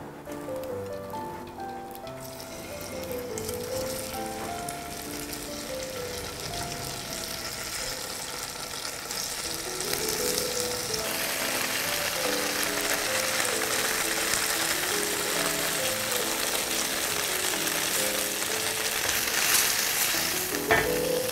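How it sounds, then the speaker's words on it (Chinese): Pieces of egg tofu pan-fry in a little sprayed oil with a steady, bright sizzle. The sizzle grows fuller partway through and continues under soft background music. "放入我们的蛋豆腐，把它稍微煎一下"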